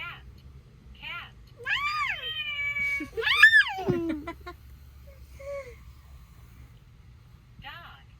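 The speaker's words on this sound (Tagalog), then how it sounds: "Ay, cat ang gusto mo. Cat. Cat." A cat meow from a children's sound book, heard as two or three short electronic meows close by, mixed with a child's babble and an adult's voice.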